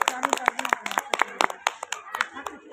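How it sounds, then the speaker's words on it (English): Audience clapping for a student drama performance at a school event, sharp irregular hand claps from a small nearby group mixed with a talking voice, fairly quiet and close. "Let's clap for them."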